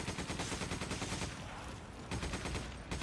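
Rapid, continuous gunfire in Resident Evil 5, with dense repeated shots that briefly thin out midway and then resume loud and steady.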